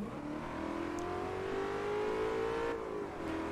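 A BMW engine in Forza Motorsport 3 holds a steady, loud rev that climbs gradually as the car pulls through a race, with a brief dip near the end before the note picks up again.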